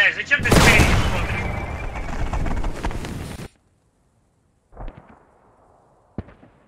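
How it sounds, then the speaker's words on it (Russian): Tank cannon fire and battlefield gunfire in the video game Post Scriptum, a loud dense burst lasting about three seconds that cuts off abruptly, followed by a couple of fainter short thumps, with voices talking. "по нам сзади танк стреляет"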